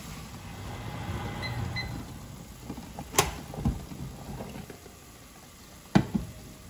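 Tomatoes softening in a hot pan for prawn biryani, a steady low sizzle and bubbling with a couple of sharp clinks of a utensil against the pan.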